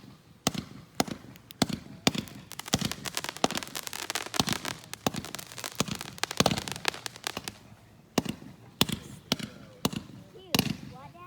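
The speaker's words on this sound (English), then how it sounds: "Fireworks Fiesta's up. Still going." Fourth of July fireworks burst in a rapid, irregular string of sharp cracks and pops, some close and loud, others fainter, with scattered voices talking between the explosions.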